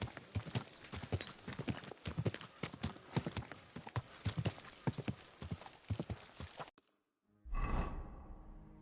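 Rapid, loud hoofbeats of a galloping horse in a video game clatter in quick rhythm, then cut off briefly before a snort or whinny-like burst.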